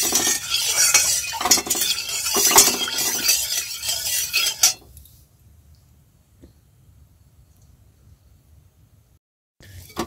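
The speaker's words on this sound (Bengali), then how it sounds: "মাছটা ভেজে নিই দেখি।" Turmeric-coated fish frying in hot oil in a wok: loud hissing sizzle with metal clinks and scraping for about five seconds, then it cuts to near silence.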